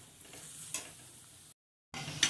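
Beetroot fries in a pan for beetroot gongura chutney, being fried until crisp, with a soft, steady sizzle and occasional stirring scrapes, quiet throughout and briefly cut to silence.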